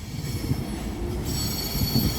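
A commuter train pulls out of North Philadelphia station with a steady low rumble and wheel noise, and a thin, high wheel squeal sets in partway through. It is close and fairly loud, with no voices.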